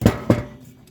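Two sharp mechanical clicks in quick succession from a Lucas magneto being turned, close and crisp, then quiet.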